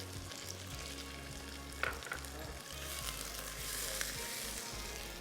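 Tomatoes and green chillies sizzling in a pan for green shakshuka, a quiet, even frying hiss with a couple of soft utensil knocks, heard close over a low hum.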